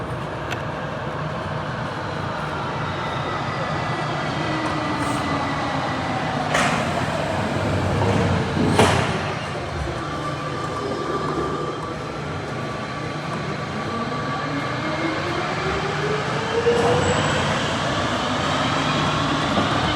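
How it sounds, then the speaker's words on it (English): Turin metro train pulling into Lingotto, the line's terminus, a steady loud rumble of rolling stock with rising and falling whine as it slows, continuous throughout with no talking. "Here I am arriving into Lingotto, which is the terminus of the metro"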